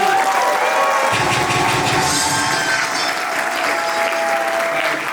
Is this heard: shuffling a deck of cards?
no